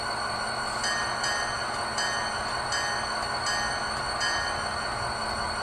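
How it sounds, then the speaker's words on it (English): Locomotive bell from a ScaleTrains SD40T-2 Rio Grande model with a LokSound v5 decoder, clanging in a steady repeating rhythm about every three-quarters of a second over a constant diesel engine idle. "Here's the bell with function 1."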